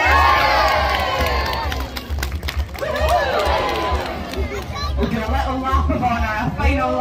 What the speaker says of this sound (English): Give him a cheer as he comes in.